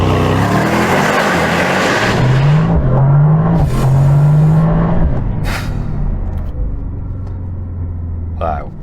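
A 1000-horsepower car launches hard from a standstill to 60 mph, its engine roaring loud and close as it climbs through the revs and then fades off into a rumble. People talk over the engine noise.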